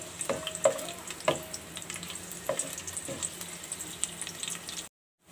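Onion lightly frying in a pan for an urad dal dish, a soft steady sizzle with occasional clinks and stirring scrapes, close and fairly quiet, ending in sudden silence.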